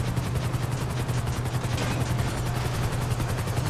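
Helicopter rotor drone under a steady stream of rapid gunfire in GTA V Online, loud and continuous throughout with no voices.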